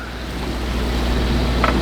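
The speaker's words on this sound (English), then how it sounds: "We were going like 2 knots and that's just slamming into the waves." Sailboat pushing slowly into rough waves at about 2 knots, a continuous low rushing of water and wind against the hull, with one brief splash near the end.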